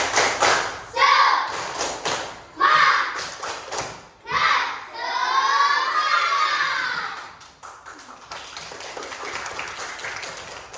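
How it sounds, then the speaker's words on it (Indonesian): A school class does a rhythmic spirit clap in bursts, loud claps alternating with children chanting and shouting together nearby, ending in quieter classroom chatter. "Berikan tepuk semangat untuk semuanya."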